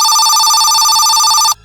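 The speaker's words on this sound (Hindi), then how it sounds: "अरे फोन किसका आ रहा है तुम्हारे घर पे?" A telephone ringing with a loud, steady electronic trill that holds for about a second and a half and then cuts off abruptly, with no talk over it.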